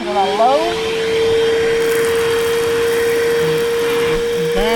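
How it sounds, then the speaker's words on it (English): A handheld vacuum cleaner switched to its low setting hums steadily for the whole stretch, a close, even motor whine with a constant pitch. Someone speaks briefly near the start and end over it. "Vacuuming this right up."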